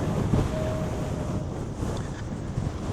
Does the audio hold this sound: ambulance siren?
no